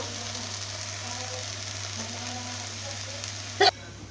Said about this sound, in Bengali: এই শাকটি ভাজা হয়ে গেছে, এখন নামিয়ে নেব